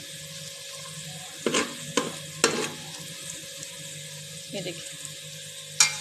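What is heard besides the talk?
stirring ingredients frying in a pan for mutton korma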